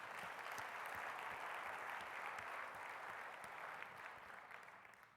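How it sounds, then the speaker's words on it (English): An audience at a business meeting claps steadily for several seconds, dense applause slowly fading toward the end. "I'd like to give another applause for that."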